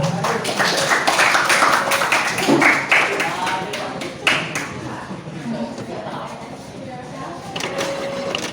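A small group of people claps hands at a short-story writing class, the applause fairly close and uneven, with speech mixed in and rising over the clapping.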